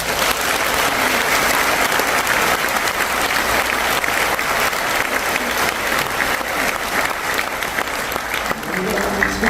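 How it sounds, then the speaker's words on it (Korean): A church congregation at an evening worship service of a Korean mission conference gives a long, loud, dense round of applause that stays steady throughout, with a faint voice beneath it. "우리 노 목사님과 우리 성도들 정말 격려의 박수 한번 해주십니다."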